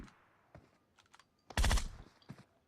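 Gunfire in a PC shooter game: a few faint scattered shots, then one loud close burst lasting a fraction of a second, with light keyboard-like clicks in between and no talking.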